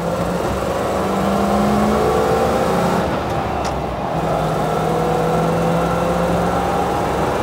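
A 1984 Land Rover Defender 110 engine drones steadily while driving, with a brief dip in revs midway as the manual gearbox shifts down, then a rising pull again. Road and cabin noise stay constant, and no one speaks.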